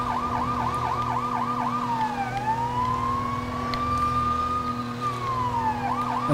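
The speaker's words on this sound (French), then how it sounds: "Je vais couper cette sirène parce que ça casse la tête un peu." A police car siren from the LEGO City Undercover video game wails nearby and loudly, first with fast repeated yelps, then with long rising and falling sweeps over a steady engine hum.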